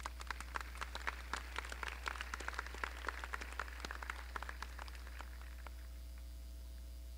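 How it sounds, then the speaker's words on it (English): A graduation audience claps at a distance, scattered sharp claps thinning out over several seconds above a constant low electrical hum. "Let's give them a round of applause."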